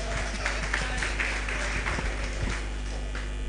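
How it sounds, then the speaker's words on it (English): An audience at a law lecture gives steady, dense applause over a constant low hum, filling the room evenly for several seconds. "If I'm trying, please clap for me."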